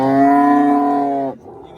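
A cow at a livestock market gives one loud, long, steady moo close by, ending abruptly into quiet background murmur.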